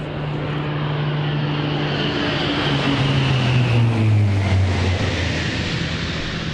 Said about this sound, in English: we will soon have the pleasure of witnessing a flypast of a C-130 Hercules